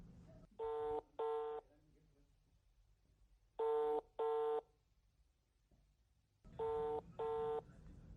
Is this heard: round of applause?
no